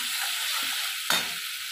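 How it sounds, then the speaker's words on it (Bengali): Garlic paste frying in a pan with fried onions makes a steady close hiss, broken about midway by one brief louder scrape of a spoon stirring it, with no voices. "আমার এখানে রসুনটা ভাজা হয়ে এসেছে"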